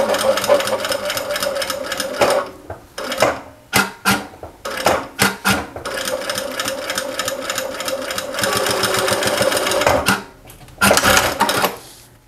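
A sewing machine stitches a seam around a small fabric phone pouch, running in steady whirring bursts broken by short pauses and slower stretches at the turns, close and fairly loud.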